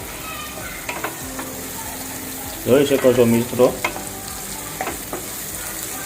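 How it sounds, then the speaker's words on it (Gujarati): Chopped onion sautéing in hot tempering oil for a Gujarati peanut bhajiya curry, a steady sizzle with stirring scrapes that swells loudly midway, and a brief spoken line over it. "કાંદાની કટકી એડ કર્યા બાદ વઘાર જે આપણે કર્યો છે તેને બરાબર સાતળવાનો રહેશે."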